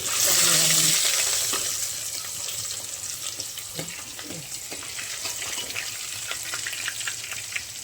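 Ginger paste and dry garlic hit hot oil for tempering, giving a loud burst of sizzling that settles into a steady, softer frying crackle with occasional clinks.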